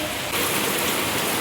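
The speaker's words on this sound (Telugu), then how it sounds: "సో గైస్ వర్షం పడుతుంది గైస్," Steady rain falls nearby, a dense, loud hiss of drops on surfaces that briefly swells and then holds evenly, with no voices.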